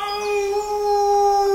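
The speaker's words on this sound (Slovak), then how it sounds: "To je vlk!" A long, steady wolf howl in a forest at night, one sustained tone holding loud and clear without a break and with no voices over it.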